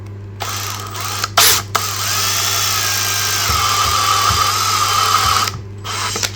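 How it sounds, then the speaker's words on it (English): Step drill boring holes in an electronics enclosure, a steady close whine for about six seconds with pitch shifting as the bit climbs, broken by short pauses and light clicks near the start and end. "So we can do this again with the step drill."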